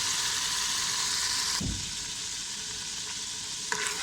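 Fried chicken pieces are lifted out of a hot pan of oil, under a steady loud sizzle, with one low knock partway through as the sizzling eases slightly.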